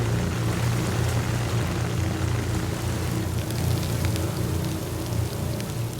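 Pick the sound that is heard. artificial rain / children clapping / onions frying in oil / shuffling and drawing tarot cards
artificial rain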